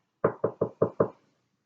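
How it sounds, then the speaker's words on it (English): Five sharp knocks in quick, even succession, close and distinct, against a house wall, followed by silence. "I heard that knocking."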